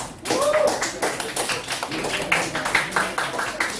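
Students in a classroom clap together, a dense run of quick overlapping hand claps filling the room at moderate loudness, with some voices mixed in.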